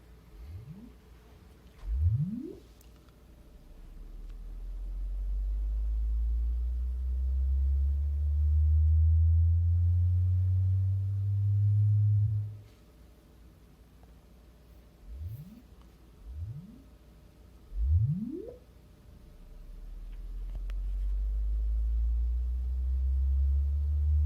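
Test tone sweeps played into a room for a DSP room response measurement: several quick rising sine chirps, then a sustained low humming tone that slowly glides upward before fading, with more chirps and a low tone returning near the end.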